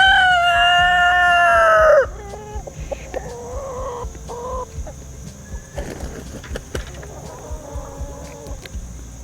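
Farm chickens in a flock of about two dozen on a homestead, a rooster crowing loudly up close at the start, then softer scattered clucks and bird calls in the background.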